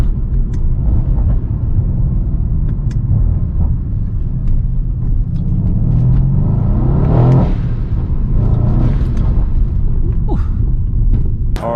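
A Mercedes C63 fitted with VRP intakes rumbles loudly and steadily from inside the car, the engine note swelling as it revs up before settling back to a deep drone.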